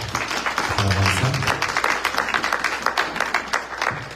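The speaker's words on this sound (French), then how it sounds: "Nous sommes capables d'applaudir pasteur" A conference audience applauds a pastor in a loud burst of clapping that starts dense and thins into scattered claps over a few seconds.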